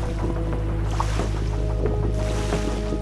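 Ocean water on a long sandy beach in South Australia's Eyre Peninsula, a steady broad wash of surf with soft swells rising and falling, continuous and fairly close, with no talk over it.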